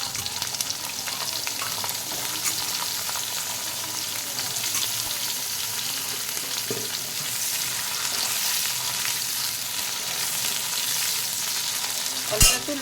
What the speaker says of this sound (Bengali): এবার আমি বেগুনগুলো দিয়ে ভেজে নেব।